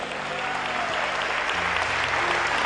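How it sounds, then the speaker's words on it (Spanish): A church congregation applauds during a Sunday service, a full, sustained round of clapping that swells slightly, with faint tones from a keyboard underneath. "Dale un aplauso al Rey."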